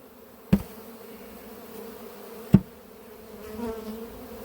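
Honeybees at an apiary hive during a drone-layer colony shake-out, a low continuous buzz close by, broken by two sharp knocks and a rising whir near the end.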